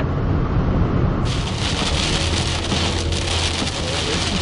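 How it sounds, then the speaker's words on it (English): Heavy rain pounding steadily on a car during a storm downpour near Brownsville, Pennsylvania, a loud, dense continuous patter with a faint low rumble underneath and no talk. "It's gonna be a nice downpour."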